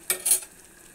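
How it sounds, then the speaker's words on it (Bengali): Water poured into a hot pot of cooking mutton curry gives a brief sharp hiss and sizzle, close by, that fades quickly into a soft simmer. "এবার আমি পরিমাণ মতো জল দিয়ে দেব।"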